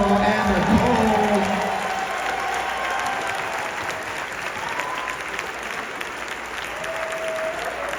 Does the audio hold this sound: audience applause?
yes